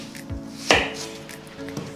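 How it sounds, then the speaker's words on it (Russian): Knife chopping onion into half rings on a cutting board in a home kitchen, a few quiet, irregular cuts with one sharper thud. "Теперь его нам надо нарезать полукольцами."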